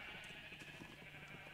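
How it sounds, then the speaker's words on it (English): Sheep bleat in the Minecraft video game, several short bleats overlapping over a steady game background, fairly close and moderately loud, with no talking. "So many sheep."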